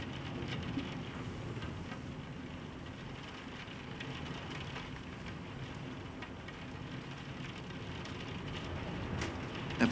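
Steady rain pours throughout as a live song by a Belgian act opens, a dense even wash of drops holding the same level from start to finish with no voice over it.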